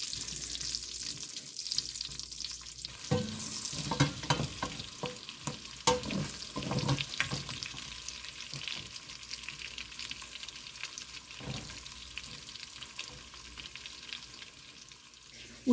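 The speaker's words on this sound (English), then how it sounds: "You want to cook the chorizo until it becomes nice and toasty." Chorizo fries in a pan with a soft, steady sizzle while a utensil stirs and scrapes in bursts, busier in the middle and quieter toward the end.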